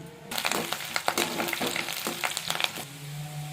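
Onions and curry leaves fry in a pan for a mushroom, white chickpea and potato curry, crackling and sizzling loudly up close with sharp popping bursts and stirring clatter before settling to a quieter hiss.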